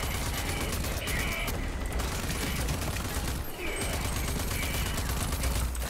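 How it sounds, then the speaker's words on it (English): Rapid automatic gunfire in the Rage 2 video game, a dense continuous barrage of shots running the whole stretch at steady high loudness, with game sounds layered in. "No, don't shoot at me!"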